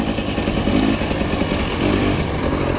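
A Husqvarna TE300i enduro motorcycle idles steadily close by after an idle adjustment, its even engine drone continuous throughout with a slight rise and fall, no voices.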